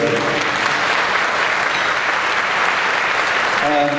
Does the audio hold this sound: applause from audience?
yes